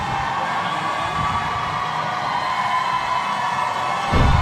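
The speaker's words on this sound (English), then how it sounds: "Listen to the crowd." An arena crowd at an IIHF women's ice hockey game between Mexico and Hong Kong, China reacts to a Hong Kong goal, with a steady, moderately loud wash of cheering and noise that swells slightly at the end.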